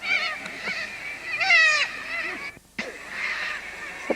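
Birds near Fitzroy Crossing in Western Australia call in the late afternoon outback, their harsh honking cries repeating in short bursts at moderate distance, with a brief quiet gap between calls.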